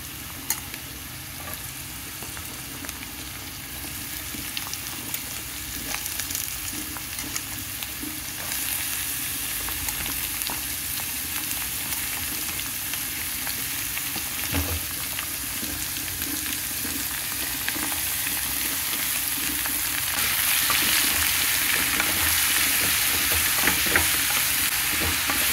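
Pieces of bottle gourd fry and sizzle steadily in a pan with cumin-spiced oil, a continuous close crackle with occasional stirring scrapes, growing a little louder and brighter toward the end; no one talks.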